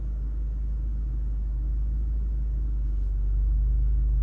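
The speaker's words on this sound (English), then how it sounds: "Put it into first gear and slowly let the clutch out without touching the gas." A manual car in first gear pulls away slowly as the clutch is let out without gas, giving a low, steady engine rumble heard from inside the cabin that rises a little in loudness near the end, with no talk.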